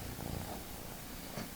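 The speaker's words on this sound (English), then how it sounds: "You purr now, cat." A cat purrs close into a microphone during a live stream, a steady low rumbling purr with a couple of slightly louder swells.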